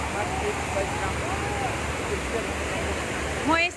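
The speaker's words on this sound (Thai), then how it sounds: "น้ำไหลทะลักแรงมาก ดูนะคะ ไหลแรงมากเลยตอนนี้เพราะว่าเมื่อช่วงเย็นมีฝนตกหนักมา" Strong, steady rush of a swollen stream after heavy evening rain at Huai Sanaeng in Surin, Thailand, a broad constant roar close to the microphone with voices faintly under it.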